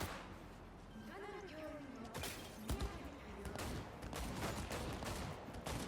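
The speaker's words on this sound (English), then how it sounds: "they're all shooting this way for some reason" Gunfire from a video game shootout crackles in scattered shots and volleys, moderately loud and fairly distant, while a voice talks over it.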